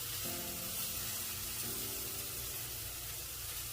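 Food browning in fat in a pot, a steady close sizzle with faint bubbling and occasional clinks, no talking.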